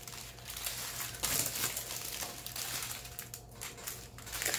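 A plastic diamond painting kit bag is opened, giving a continuous close crinkling and crumpling with sharper crackles through the middle, faint but unbroken and without talk.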